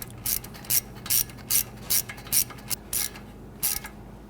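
A ratchet tightens a bolt on a Ford Taurus ABS wheel speed sensor, giving about nine quick, evenly spaced bursts of close, crisp clicking with short pauses between strokes and no talking.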